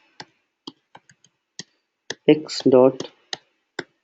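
Sparse keystrokes on a computer keyboard while typing Python code, isolated clicks spaced apart at a steady pace, with a short stretch of speech in the middle.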